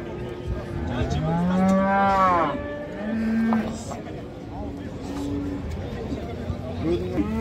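A bull at a Kazakh livestock market lets out long, drawn-out moos, several in succession, close and loud amid murmuring crowd noise and talk.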